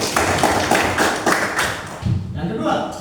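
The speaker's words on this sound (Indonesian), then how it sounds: "oke, tepuk tangan" Classroom of students clapping after a pupil's answer in a lesson, a dense burst of claps and taps that thins toward the end, with brief talk mixed in.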